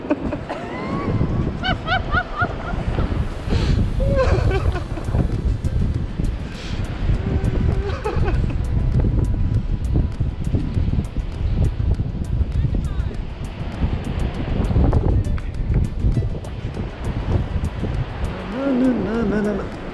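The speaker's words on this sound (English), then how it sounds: "Now maybe it's more windy." Strong wind roars and buffets the microphone without a break on a beach in The Hague while a power kite is flown, with people talking and calling out over the gusts.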